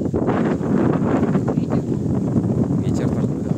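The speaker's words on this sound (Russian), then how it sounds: "Ветер такой, да." Strong outdoor wind buffeting a microphone by a river in the countryside outside Kharkiv, a loud, continuous gusty roar throughout.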